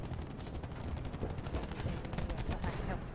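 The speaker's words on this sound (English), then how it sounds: "There's someone sniping at my head." Rapid, dense gunfire from Call of Duty Black Ops 4 rattles on continuously as a sniper fires, with repeated crackling bursts over a rumbling battle background.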